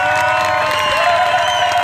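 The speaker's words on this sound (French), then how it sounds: "je demande qu'on les applaudisse à mort parce que c'était magnifique" A crowd at a night assembly applauding and cheering, a brief dense burst of clapping with whistles and shouts throughout.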